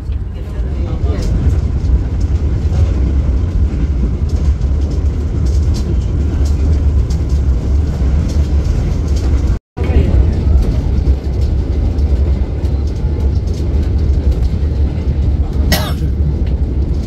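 Steady loud rumble of a moving Ambarawa Express passenger train carriage leaving Lamongan station, a dense continuous roar with faint rattles, and a brief break midway.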